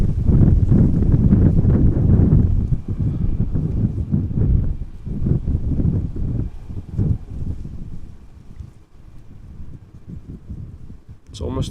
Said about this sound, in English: Wind is definitely still present.